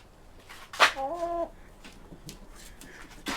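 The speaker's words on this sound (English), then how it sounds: "Here's a pair of chickens." A pair of chickens clucking up close, with one louder squawk followed by a short tonal cluck and softer scattered calls after it, in a quiet setting.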